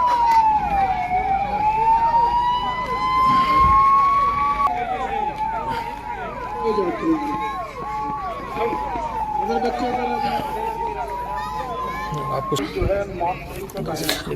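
An ambulance siren wails continuously during a police mock drill, rising and falling through repeated cycles under a steady outdoor hubbub with other sirens and crowd noise around it.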